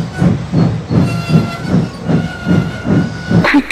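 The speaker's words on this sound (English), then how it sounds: "His driver blew his whistle and stopped the train." A steam train in the video game Trainz chuffs in a steady rhythm, about nine heavy puffs with a constant hiss, then a sharp burst of steam as it halts.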